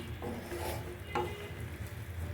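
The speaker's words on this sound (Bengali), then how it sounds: "এভাবে মশলা কষাবেন।" A spice paste of masala stirs and sizzles in a pan, with a soft steady frying hiss and a few scrapes and clinks of the spoon against the pan; no one speaks.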